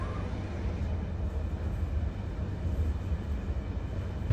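Inside a moving carriage of the Sofia to Istanbul night train, a low, continuous rumble and rattle of the wheels rolls on steadily throughout with no talking.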